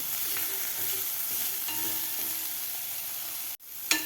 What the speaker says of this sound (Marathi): ब्रोकोली 1 मिनिटभर आपल्याला बटरमध्ये फ्राय करून घ्यायचे आहे